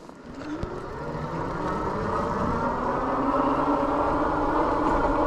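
A Dirwin Seeker electric fat tire bike with a 750 W motor climbs a hill on throttle alone, its motor whine and knobby tire roll rising into a steady, building hum, close and continuous with no talking.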